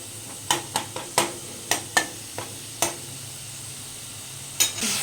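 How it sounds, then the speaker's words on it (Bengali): Spice paste with a splash of water frying in a pan for a Bengali mourola fish curry, with a spoon stirring and scraping in several sharp, separate strokes over a low sizzle, close and clear with no talking. "মশলাটা একটু ভালো করে ফ্রাই করে নেব"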